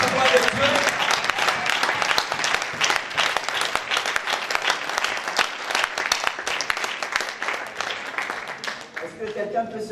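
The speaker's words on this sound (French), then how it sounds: "Quand il se lève, nous acclamons plus fort pour la gloire de Dieu." A church congregation at a worship vigil applauds loudly and continuously, dense sustained clapping with crowd noise and voices mixed in.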